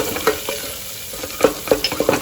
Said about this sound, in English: And stir this for a minute.